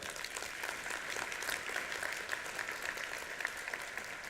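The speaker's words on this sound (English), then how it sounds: "I'd like a round of applause for our customers for all their support." At the PROS Outperform 2018 keynote, an audience gives a round of applause for customers, a soft, distant, evenly textured patter of clapping that holds steady for a few seconds.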